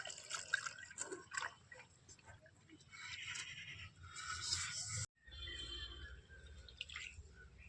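Potato starch water drips and trickles through a cotton cloth strainer, a faint, irregular patter of small drops with occasional brighter splashes, quiet and close.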